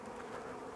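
Honey bees from a newly installed bee package swarming at a hive, a dense continuous buzzing hum, close and steady throughout the brief moment.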